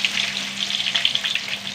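Half a teaspoon of fenugreek seeds and garlic fry in hot oil, giving a steady close sizzle with scattered small crackles and pops throughout, with no talking.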